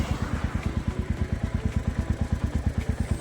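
A motorcycle rides through thick fog on a cold coastal Konkan road, its engine close and loud in a fast, steady, evenly pulsing thump that runs without a break and without talk.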